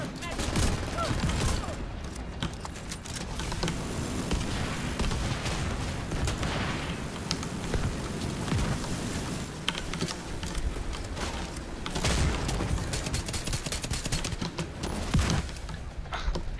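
Gunfire from Morozova and the Iron Horse during a video game boss fight: dense, rapid volleys of shots and booms that keep up for the whole stretch, with heavier blasts near the end and faint talk under the din.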